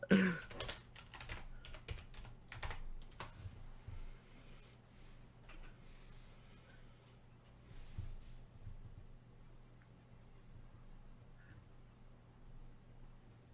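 Quick typing on a computer keyboard, a flurry of close, light clicks that thins into sparse, faint taps, no speech.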